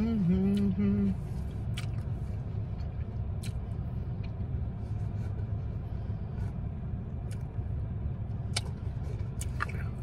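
A car passes on a road with a steady low rumble that stays level throughout, and a brief voice is heard at the start.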